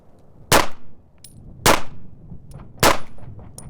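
A Ruger RXM pistol fires three evenly spaced, sharp shots at an indoor range target seven yards away, each crack followed by a brief ringing echo and faint clatter, with no talking.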